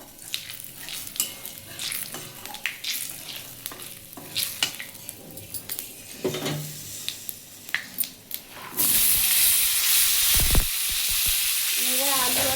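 Dry red chilli and panch phoron spices frying in oil for a paneer and okra dish, a quiet sizzle and stirring taps at first, then a sudden louder, denser hiss of frying toward the end.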